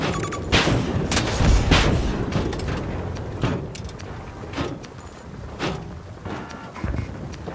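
An incoming grenade bursts amid a Battlefield 2042 firefight, with a heavy close blast among scattered gunshots and booms, loud at first, then a steady run of sharper cracks and distant explosions.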